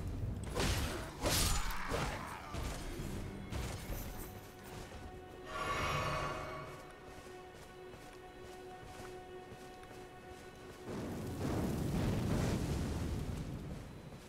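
Fire magic spell flames whoosh and burst in the Elden Ring video game, a muffled eruption near the middle followed later by a second sustained roaring swell, with game ambience in between.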